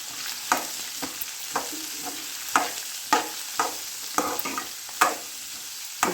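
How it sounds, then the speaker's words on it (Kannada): Onions frying in oil with urad dal in a pan, a steady close sizzle broken by repeated sharp scrapes and clacks of a spoon stirring, with no talking. "ಉದ್ದಿನಬೇಳೆ ಸ್ವಲ್ಪ ಕೆಂಪಾಗೋದು, ಈರುಳ್ಳಿ ಹಾಕಬೇಕು."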